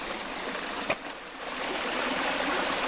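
Creek water flowing steadily outdoors, a continuous close rushing wash that grows slightly fuller toward the end, with a brief knock near the start.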